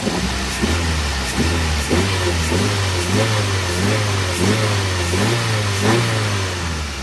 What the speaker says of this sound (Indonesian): Coba kita gas-gas ya